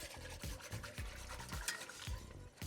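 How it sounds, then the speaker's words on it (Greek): Worcestershire sauce being whisked in a frying pan for hamburger steak gravy, a steady run of quick scraping, stirring strokes with a low sizzle beneath, close and fairly loud. "Whisk."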